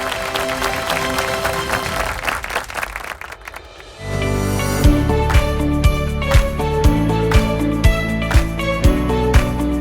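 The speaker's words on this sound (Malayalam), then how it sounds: "നല്ലൊരു കയ്യടി കൊടുത്തുകൊണ്ട്" An audience claps at the Logos Bible Quiz grand finale in a Catholic church hall, a few seconds of dense applause before rhythmic music with strong beats takes over.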